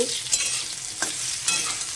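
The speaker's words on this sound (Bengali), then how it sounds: "ভালো করে একটু ভাজা ভাজা হবে আলুটা" Salted potato pieces fry in a pan for a brinjal dish, a continuous close sizzle broken by several scraping stirs of a spatula.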